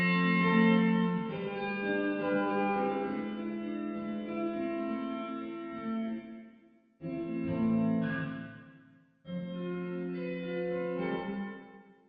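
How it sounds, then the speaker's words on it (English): Three sustained, ringing electric guitar chord strums with heavy reverb, each one swelling and then fading into a long washy tail before the next. "give you a sense of the decay of that reverb"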